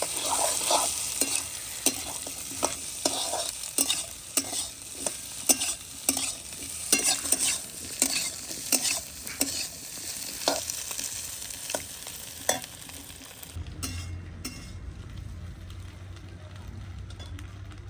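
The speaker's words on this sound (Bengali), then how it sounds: "আমাদের আলুতে ডিমে ভাজা হয়ে গেছে, এবার তুলে নেওয়া হচ্ছে।" Potato and egg frying together, a spatula scraping and knocking rhythmically against the pan over a steady sizzle, clattery and close, before the stirring stops and a low rumble takes over near the end.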